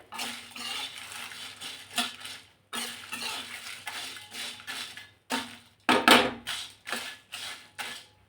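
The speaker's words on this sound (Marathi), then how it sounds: "हे जे खडे मसाले आहेत यावरती थोडंसं तेल टाकून आपण भाजून घेणार आहोत" Whole spices dry-roast in a little oil in a pan over medium heat, heard as repeated scraping and clinking strokes of a spatula against the metal in uneven bursts.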